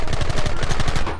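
Rapid machine-gun fire in Red Dead Redemption, a loud, evenly spaced burst of close shots rattling continuously throughout.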